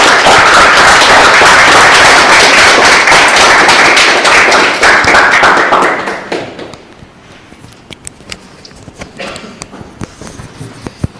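An audience applauds after a talk at a meeting, with loud, dense clapping for about six seconds that then thins out into a few scattered, fading claps.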